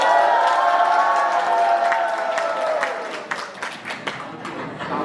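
An audience at a Bible school graduation ceremony claps and cheers loudly as a graduate's name is called, with a bright burst of applause that fades after a few seconds.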